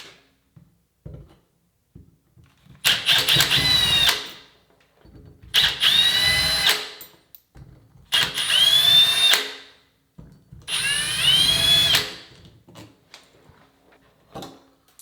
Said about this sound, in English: That's what I have a drill for